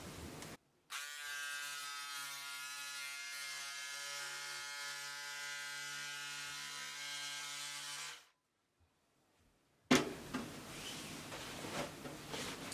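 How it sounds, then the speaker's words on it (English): A motorized tool cuts jumpsuit fabric at the crotch with a steady, close electric buzz that runs for about seven seconds and then stops. A short quiet gap follows, then rustling handling noise. "So I'll go ahead and cut out the crotch."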